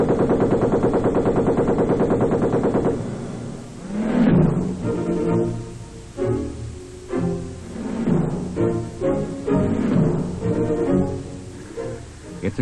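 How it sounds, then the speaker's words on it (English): Twin-mounted machine guns fire a barrage, with loud repeated bursts of gunfire following a steady droning tone at the start. "Twin-mounted machine guns provide a devastating barrage."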